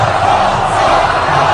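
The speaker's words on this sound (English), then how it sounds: "the cheering is happening here for Ron Paul in the stadium" A large stadium crowd at a Ron Paul political rally roars and cheers in a continuous dense wall of voices, loud and sustained with no breaks.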